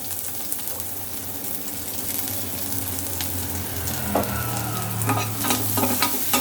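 Onions sizzle and crackle steadily in a hot pan, with occasional scraping stirs growing louder toward the end.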